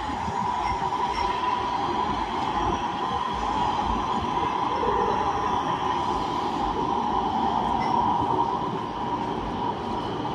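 A metro train rumbles steadily at Hoek van Holland station, with a continuous rolling roar and a faint tonal whine carrying on for about ten seconds. The sound is close and even, with no voices.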